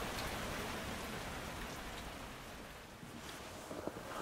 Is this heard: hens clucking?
no